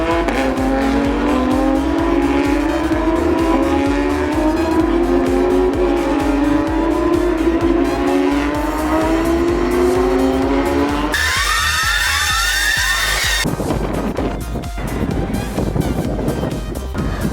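Race cars at the Silverstone circuit during a Formula 1 weekend pass with loud rising and falling engine whines, one high-revving car dominating for several seconds before another shrill pass and a rush of engine noise.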